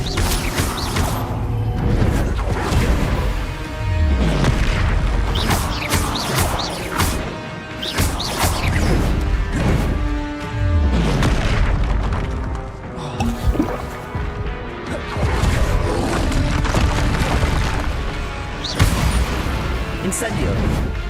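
Confringo and Incendio spell blasts go off in the video game Hogwarts Legacy, with repeated crashing explosions and whooshes over a thick, loud bed of game sound. A voice calls out between the impacts.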